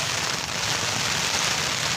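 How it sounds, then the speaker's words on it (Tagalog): Heavy rain pours steadily, a dense hiss of drops drumming on surfaces, loud and unbroken with no voices. "nabutan kami ng ulan, ano, lakas"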